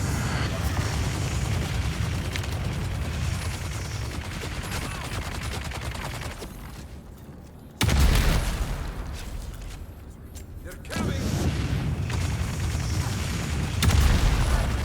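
Rocket explosions in the video game Dune: Awakening: dense rumbling bursts and booms, loud and continuous, with a lull before a sudden heavy blast and further blasts, with talk over the top.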